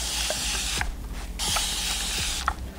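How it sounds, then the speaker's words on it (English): A hand-pumped spray bottle of water misting hair on a curly wig, several quick sprays with short trigger clicks and ratcheting between bursts, close and fairly loud with no voices. "take a bottle of water"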